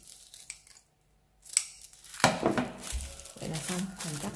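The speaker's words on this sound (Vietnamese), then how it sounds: "Chúng ta dùng chéo răng cưa chúng ta cắt." Paper being cut with zigzag pinking scissors, a few close crisp snips and crinkles in quick succession after a brief quiet gap.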